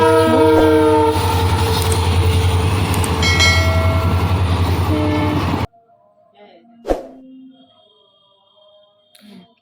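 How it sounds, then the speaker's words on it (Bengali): A train arriving at a station rumbles loudly and close with sustained horn tones for several seconds. Then the sound cuts off abruptly to near quiet, broken by a single thump. "দেখবো তো ট্রেন আসছে"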